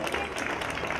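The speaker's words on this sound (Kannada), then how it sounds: "ಬರಲಿ ಚಪ್ಪಾಳೆ." Children clapping to cheer on contestants at a school parents' sports event, a brief burst of crowd applause.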